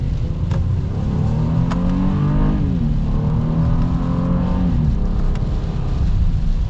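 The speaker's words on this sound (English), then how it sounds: "looks like we can get our acceleration here and race this Prius" A 2021 Honda Ridgeline HPD Edition pickup with a 9-speed automatic accelerates from inside the cab, its engine droning loudly and steadily while the pitch climbs, drops briefly at a gear shift, then rises again.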